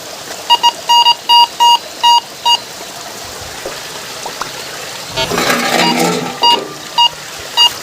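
A Minelab Go Find 66 metal detector gives a short run of sharp, evenly spaced electronic beeps, then a brief hiss and clatter of handling, then a few more beeps as it passes over a copper shield.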